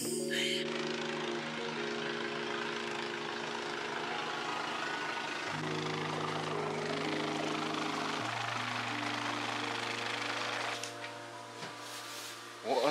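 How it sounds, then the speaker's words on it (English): Steady helicopter engine and rotor drone on New Zealand's South Island fills the whole stretch, loud and continuous, with its pitch shifting partway through. "You ready for your first helicopter ride?"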